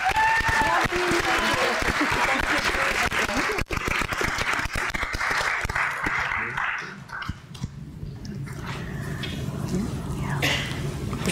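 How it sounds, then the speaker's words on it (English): Conference audience applause fills a large hall, dense and loud at first, then thinning into scattered claps and room murmur as people settle and a voice starts in the background. "let's give everyone a big round of applause for"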